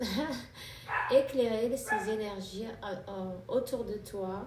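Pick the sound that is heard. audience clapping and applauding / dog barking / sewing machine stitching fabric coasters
dog barking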